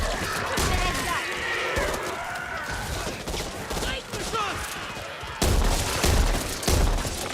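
Rapid bursts of gunfire and impacts from the zombie shooter Back 4 Blood, dense and loud near volleys with crashes mixed in, punctuated by character voices speaking over the fighting.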